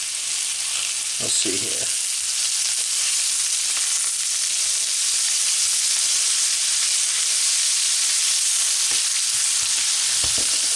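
Sous vide pork tenderloin sizzles steadily in melted butter in a pan, a constant bright frying hiss throughout with a few stirring clatters and a brief voice near the start.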